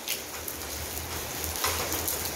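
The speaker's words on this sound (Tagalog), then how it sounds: "Kaya papakita ko sa iyo ang mula ng yelo dito." Sudden hail falling hard as ice chunks pelt down in a heavy downpour, a dense, steady patter and hiss across surfaces with no voices.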